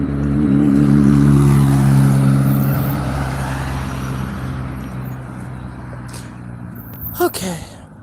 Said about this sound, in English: And we had a motorcycle or some noisy ass thing coming.